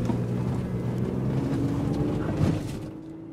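A 2002 Pontiac Grand Prix GT engine during a spirited drive after a Seafoam treatment: a steady, loud low drone of engine and road noise with wind rush, swelling slightly near the end before easing off.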